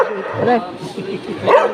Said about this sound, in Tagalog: malakas tumahol ng aso